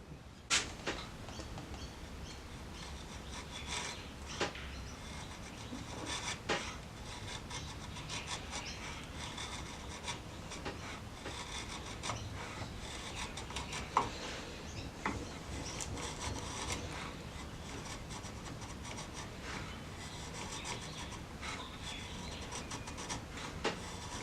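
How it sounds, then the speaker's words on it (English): A chisel paring curls from wood under heavy force, heard as close, continuous scraping and shaving with occasional sharp clicks and knocks, and no talk. "So to do these curls is requiring quite a bit of force through the chisel."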